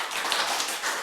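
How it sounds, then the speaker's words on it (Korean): Brief clapping from an audience forms a dense, steady patter of hand claps for about a second, fairly close and without voices. "일단 박수"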